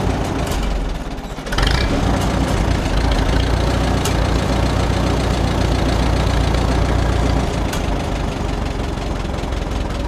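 Oliver 66 tractor engine idling after carburetor and electrical troubleshooting, a loud steady low rumbling chug close by, with a brief dip early on.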